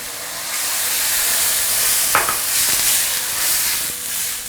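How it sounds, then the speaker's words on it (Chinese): Plain water is poured into a hot pan of stir-fried tomato paste while making soup, a loud, steady sizzling hiss with a brief splash and a few stirring clinks, with no talk. "炒出果胶之后，接下来我们倒入清水"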